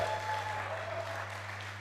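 Clapping from an audience at an alumni lecture, soft and somewhat distant, a brief steady patter over a low background hum.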